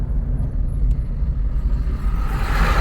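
Interior of a manual car being driven and slowed, with steady low engine and road rumble throughout and a faint rising engine note near the end as it shifts down into second gear.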